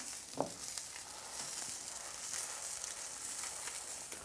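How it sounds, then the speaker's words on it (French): Bread and sausages browning in butter in a pan, a steady soft sizzle with light crackles and a small knock near the start, close and moderately quiet with no talking. "on va la faire revenir dans du beurre pour que ça ait un petit goût de grillé autour"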